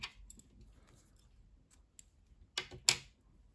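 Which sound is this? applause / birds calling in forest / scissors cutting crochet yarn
scissors cutting crochet yarn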